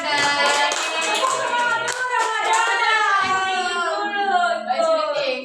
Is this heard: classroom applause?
yes